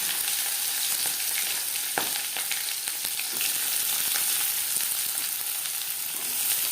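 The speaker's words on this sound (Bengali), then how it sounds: "সেই তেলে দিয়ে দেবো পেঁয়াজ কুচি" Chopped onions fry in hot oil left from crisping chillies, a loud, dense, continuous sizzle heard up close with scattered crackles and a few faint clicks of a utensil.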